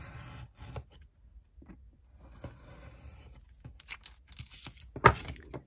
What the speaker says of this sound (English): No need for inking, I'm just gonna cut it off.